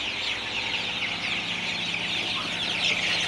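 A flock of 27-day-old Sonali super hybrid chickens clucks nonstop in a hot poultry shed, a dense, close chorus of overlapping clucks over a low steady hum.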